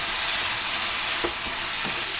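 About 1.5 pounds of pork frying with light soy sauce is stirred in a hot pan, a constant loud sizzle with a couple of scraping stir strokes near the middle and end, no talk.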